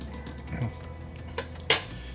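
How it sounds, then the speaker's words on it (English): A utensil stirs milk and melted butter together in a bowl, making a few scattered metallic clinks and taps, one louder clink near the end, over a low, steady room background. "So first, we're going to combine these two together. Stir them together."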